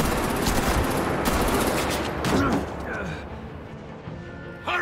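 Gunfire in the Batman: The Enemy Within game, a dense continuous burst of shots that drops off after a couple of seconds. Voices and music sit underneath.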